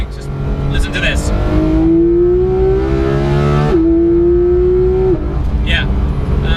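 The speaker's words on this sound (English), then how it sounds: "gear shifts are as savage as you would expect. Just listen to this." A high-performance car engine revs hard and loud, its pitch climbing steadily before fast gear shifts drop it sharply and it pulls up again, with someone talking over it.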